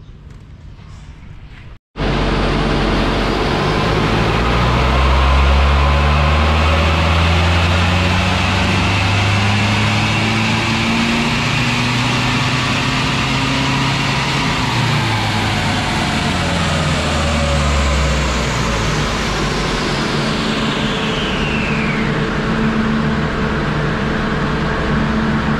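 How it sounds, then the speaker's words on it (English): Mitsubishi Triton 2.4 MIVEC engine running on a dyno starts abruptly after a short quiet lead-in, then roars loudly and continuously as its revs climb and fall in long sweeps. "gonna run a dyno test with the stock map to see how much horsepower it's gonna make"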